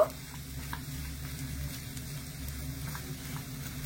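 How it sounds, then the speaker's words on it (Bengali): Soft, faint sizzling of spiced potatoes frying for an aloo masala dosa filling, a low continuous hiss over a quiet background hum with a few light stirring ticks. "এবার আলুটা একটু ভাজা ভাজা করে নেব।"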